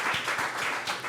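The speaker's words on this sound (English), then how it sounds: "can we give them a round of applause?" A live audience claps briefly after a panel discussion on tech startup resilience, a short spell of applause with a few distinct claps standing out over roughly one second.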